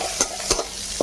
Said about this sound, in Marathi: तेल आता चटचट चटचट.